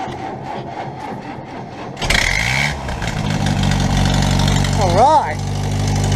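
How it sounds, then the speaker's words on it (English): Land Rover Series 2a 109 engine starting cold and revving as the accelerator is pressed, a sudden loud rise after a quieter stretch of voices, then a sustained engine roar with a short swooping rev; people talk throughout. "Press the accelerator a bit with the other hand, with your foot."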